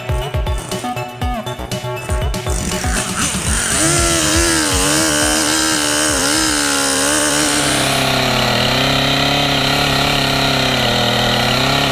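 A loud chainsaw with a dull chain cutting wood in a forest sputters with uneven bursts, then revs up and holds a steady, buzzing high-pitched whine, close by and continuous.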